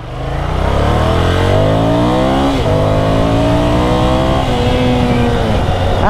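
Ducati Scrambler Icon motorcycle with an 803cc twin engine, revving hard while riding; the engine note rises steadily toward redline, dips briefly at two gear shifts and climbs again, loud and close.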